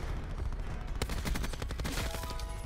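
Rapid bursts of light machine gun fire in the video game Black Ops 4, a dense fusillade of close, loud shots that grows sharper partway through, with no voices over it.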